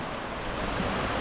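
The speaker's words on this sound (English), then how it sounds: "I just love the sound of them waves just rolling in" Calm sea waves roll onto a beach at Hua Hin, Thailand, as a brief, steady wash of surf noise with some wind and no voices.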